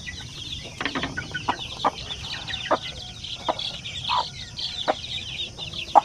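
Young chicks of zampen, basilan and shamo aseel breeds peep and cheep, with short sharp calls repeating at irregular intervals over a steady background hum, fairly near and moderately loud.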